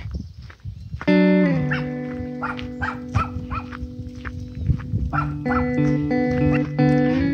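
A dog close by lets out a run of barks mixed with drawn-out whining, yelping tones. The outbursts come in uneven bursts over several seconds, with a few quiet gaps between them.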